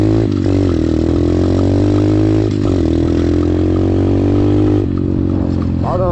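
A motorcycle engine runs loud and close while being ridden, its steady drone dipping and picking up again as the clutch engages, with a short rev near the end.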